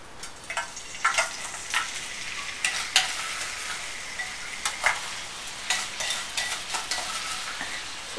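Almonds and sugar sizzling and frying in ghee, a close, continuous crackle with scattered stirring scrapes and spoon taps through the pan noise.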